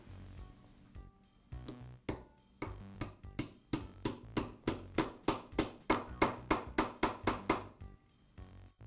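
A socket is tapped with a hammer to seat a bearing onto the armature shaft of a Porter Cable drywall sander. Sharp metallic knocks come close and loud, a few spaced strikes first, then a fast, even run of about fifteen blows.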